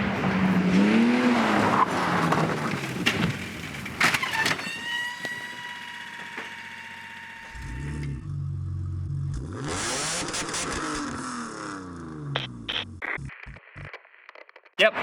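A BMW E36 race car skids with squealing tires and engine roar, followed by harsh broadband bursts and clattering impacts as it crashes, heard in a busy, broadcast-like mix.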